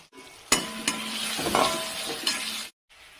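Tomato and chili tossed into a hot pan with mustard seeds and urad dal, stirred and sizzling for a few seconds, with a couple of sharp utensil scrapes and knocks before it stops abruptly.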